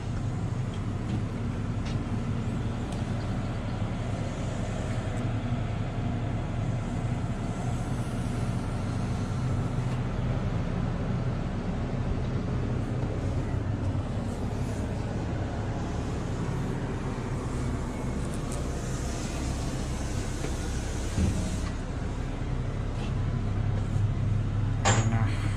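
Inside the engine room of Indonesia's biggest excavator, a heavy engine runs at a constant pace, a loud, unbroken rumble that holds steady throughout with no voices.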